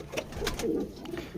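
Pet budgies chirp softly as they are placed back into a cleaned nest box, a few short bird calls close by and quiet, with no talking.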